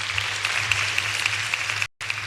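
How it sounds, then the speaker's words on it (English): An audience at a Kenyatta University public lecture claps steadily for the guest speaker, a dense, even patter of applause filling the hall, briefly cut off near the end. "Clap for him again."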